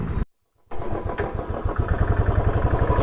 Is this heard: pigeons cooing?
no